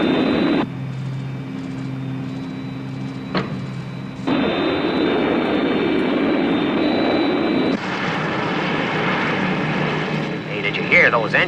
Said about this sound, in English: those engines, Eddie. International rescue have arrived